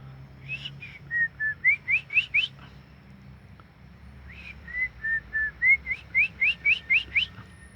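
Therapy whistling for a stressed magpie robin: two clear phrases of bright whistled notes, each a few slurred tones followed by a quick run of rising chirps, separated by a short pause over faint background.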